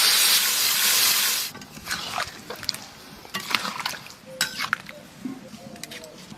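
Water poured into a hot pan of puti fish curry: a loud, steady burst of steamy hiss at first, then quieter bubbling with scattered clinks of a utensil against the pan.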